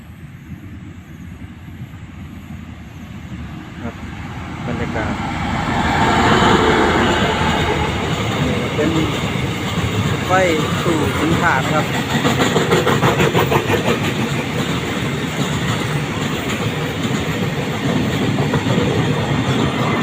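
A train passes close by on a railway track beside a fishing spot, the rumble building loudly after a few seconds into a steady, sustained clatter of wheels on rails.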